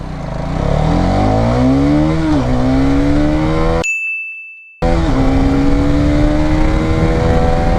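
A Hero Karizma XMR 210 motorcycle accelerates hard from standstill toward 60, its engine note climbing loudly through the revs, dipping at a gear change, then cutting out briefly before resuming another rising pull.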